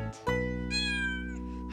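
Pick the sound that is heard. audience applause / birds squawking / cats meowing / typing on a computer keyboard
cats meowing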